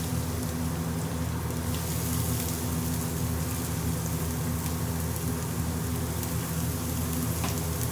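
Onions sizzle steadily in hot vegetable ghee, a constant close crackle and hiss like light rain, with no talking over it.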